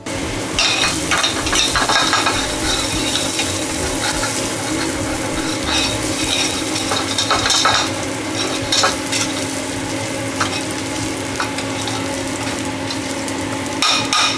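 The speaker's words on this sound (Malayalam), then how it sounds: "നല്ല ശുദ്ധമായ നെയ്യിലേക്ക് ജിഞ്ചർ ഗാർലിക് പേസ്റ്റ് ഇട്ടൊന്ന് വഴറ്റി എടുക്കുകയാണ്" Ginger garlic paste sautéing in ghee in a restaurant kitchen, a steady close sizzle with stirring scrapes and faint clinks running throughout, no voices.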